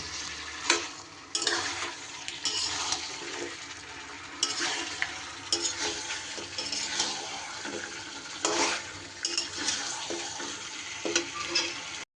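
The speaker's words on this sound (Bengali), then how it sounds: "সব এবার খুব ভালো করে মিশিয়ে দেব হালকা হাতে" Mutton curry with fried potatoes being stirred and mixed in a pot, repeated scraping strokes of a spoon against the metal over a continuous hot sizzle, close and fairly loud, no talking.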